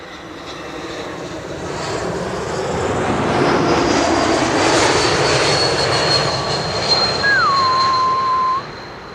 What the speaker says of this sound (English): This is Air France flight 1640, Bombardier C-Series 300, arriving from Paris